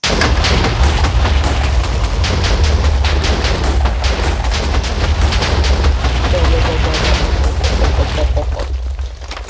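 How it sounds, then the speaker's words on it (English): Rocket takeoff in a Minecraft SpaceCraft map brings a dense, continuous roar of overlapping explosions and booms, loud and unbroken for several seconds before easing slightly at the end. "and then you hear an explosion."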